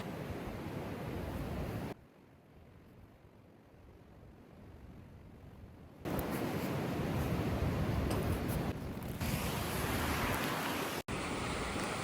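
Strong January wind sweeps over a campsite at Cedar Hill State Park, a roaring broadband rush that eases into a quieter lull, then surges back loud and sustained with a brief break near the end.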